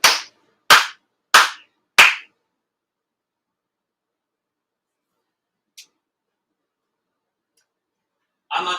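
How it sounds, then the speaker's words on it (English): Four sharp, evenly spaced hand claps at a Konko Shinto prayer service, close and distinct, followed by silence with a faint tick and a brief voice near the end. "Aide, 4 sincere claps."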